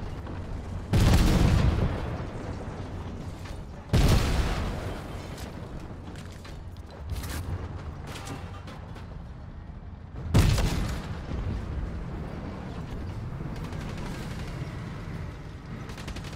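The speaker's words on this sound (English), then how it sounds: "Don't shoot the cannon, man." Three heavy booming cannon blasts in Fortnite, spaced a few seconds apart, each ringing out over a steady rumbling backdrop.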